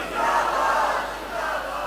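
A large congregation at a religious gathering shouts a slogan in unison, answering the speaker's call with a loud, sustained massed roar that swells, dips slightly, then rises again.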